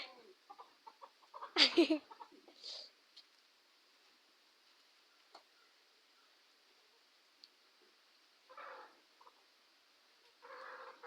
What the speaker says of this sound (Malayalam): ഇതേപോലുള്ള കോഴി നിങ്ങൾക്കുണ്ടാ?